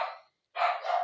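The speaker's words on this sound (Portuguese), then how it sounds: "Meu cachorrinho achou de ficar latindo agora" Two quick yaps from a small dog, close and fairly loud, separated by a brief pause.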